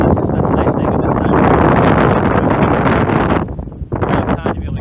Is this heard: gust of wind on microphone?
yes